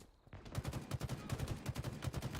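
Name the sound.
battle rifle firing rapidly in the video game Halo Infinite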